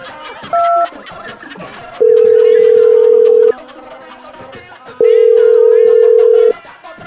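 A telephone call is placed, with a short dialing beep followed by two long, loud steady tones separated by a pause, each ringback-style burst sounding alone.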